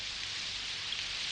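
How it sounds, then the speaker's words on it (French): Heavy rain falling steadily, a dense unbroken hiss of drops with no distinct individual hits, even and moderately loud throughout with no talking. "Mais il pleut beaucoup trop."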